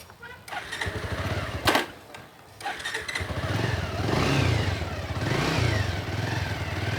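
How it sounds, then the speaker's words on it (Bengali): A used motorcycle's engine idles and revs in steady surges, loud and close, with a few sharp clicks early on. "আমরা বাইকটির সাউন্ড কন্ডিশন একটু শোনানোর চেষ্টা করতেছি আপনাদেরকে"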